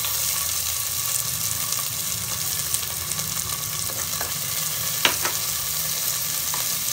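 Handfuls of chopped onion frying in oil for an egg omelette curry, a steady broadband sizzle with a few soft stirring clicks and taps, close and continuous with no talking.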